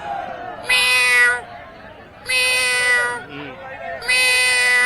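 A person's voice imitates a cat's meow three times, drawn-out and nasal, with soft background chatter between.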